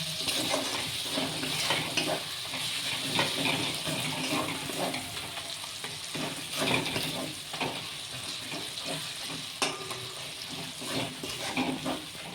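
Doi chicken with spices being stirred and fried in a pan, a steady sizzle with scraping and stirring strokes running throughout, fairly close and continuous, with no talking.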